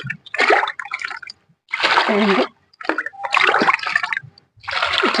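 Water splashes and pours in several bursts into a container of cow dung water for liquid fertilizer, with short pauses between pours; close and fairly loud.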